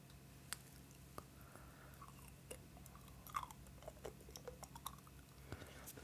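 A whole pecan is crunched and chewed up close, with scattered sharp cracks and soft grinding bites over a low steady background hum, no talking.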